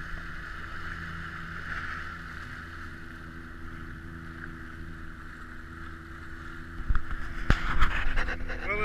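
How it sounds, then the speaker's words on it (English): A boat motor idles along the inner edge of sea ice on a seal hunt, a steady low hum with wind noise, joined near the end by louder knocking and splashing. "And I'm just going to idle around here from now on, and hopefully we'll see a seal or two before too long."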